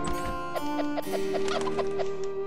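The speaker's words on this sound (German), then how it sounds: "Oh, hier sind Hühner." Chickens clucking in the video game Evoland 2, a quick series of evenly spaced clucks over steady game music.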